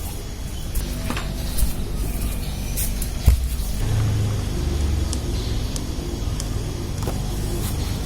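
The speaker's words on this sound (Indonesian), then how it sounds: "Ini suara mesin sudah kasar, asak-asak mesin bergetar" A rough-running motorcycle engine gives a steady low rumble throughout with a rough, vibrating texture, the visor vibrating too, plus a brief knock partway through.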